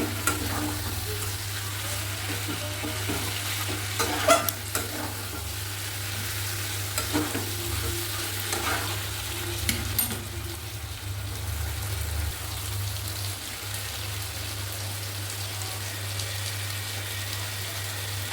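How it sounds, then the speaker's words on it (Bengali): Chicken pieces are stir-fried with spices in a pan for a Bengali kosha, a continuous close sizzle with occasional spatula scrapes and a low steady hum underneath. "ভালো করে কষিয়ে নিচ্ছি বন্ধুরা"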